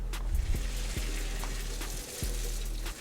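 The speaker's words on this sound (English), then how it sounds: "And you're gonna dump it into your strainer." Hot pasta water pours from a pot into a strainer in a home kitchen, a soft, continuous splashing rush with a few sharper knocks, fairly quiet and without talk.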